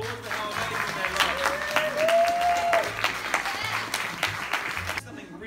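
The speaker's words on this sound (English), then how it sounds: "applause for how amazing they are." Group applause during a school holiday outing, a continuous patter of clapping with a faint whistle-like tone and some background voices, cutting off abruptly at the end.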